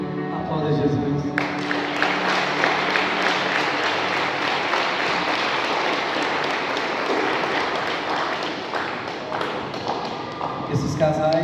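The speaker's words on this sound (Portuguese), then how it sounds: "Aplauda Jesus" Church congregation applauding during a pastoral consecration service, a dense steady wash of clapping sustained for about ten seconds, loud and close, with a few voices mixed in.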